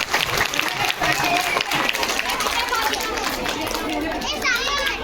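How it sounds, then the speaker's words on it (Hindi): Loud, sustained applause from a school annual day audience during a prize distribution, with children's excited voices and chatter rising through the clapping toward the end. "जोरदार तालियां।"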